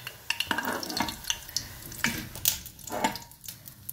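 Pakoras frying in hot oil for a Punjabi pakora kadhi, a soft steady sizzle with scattered stirring clinks and scrapes, fairly quiet and close with no talking.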